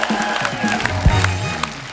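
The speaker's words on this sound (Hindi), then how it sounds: "एक बार जोरदार तालियां हो जाए मान साहब" A studio audience at The Kapil Sharma Show applauds and cheers in a steady, moderately loud wash of clapping, while music and a voice carry on over it.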